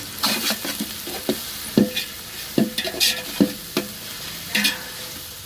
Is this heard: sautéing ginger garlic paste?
yes